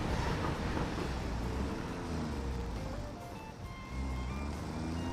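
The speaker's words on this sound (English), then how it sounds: "Come on, tractor, get out of there." A tractor driving in the video game Satisfactory, a steady, loud motor rumble with gliding engine tones rising and falling as it maneuvers.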